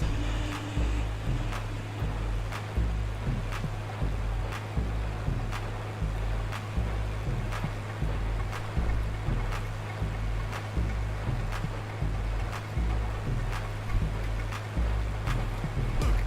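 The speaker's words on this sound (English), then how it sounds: "Little orange tugboat." A little orange tugboat on the Nile in Microsoft Flight Simulator 2024 chugs with a steady low engine throb, pulsing rhythmically under a continuous watery wash.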